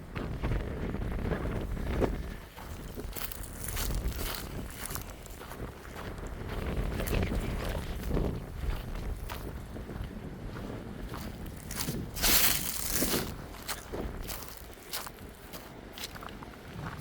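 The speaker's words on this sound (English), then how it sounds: "It's windy out here." Gusty wind buffets the microphone in uneven surges at 1800s-era ruins and a cemetery in Belle Plain, Texas, with a few sharp rustles and scuffs, outdoors with no talking.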